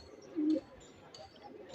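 A single brown-necked tournament homing pigeon gives one short, clear coo close by, against a faint room background.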